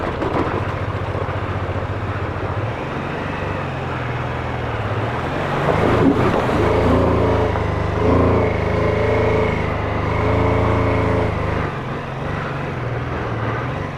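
A BMW F450GS motorcycle on a trials track gives a close, steady engine drone that shifts pitch as it works through gears, with a brief rougher surge in the middle.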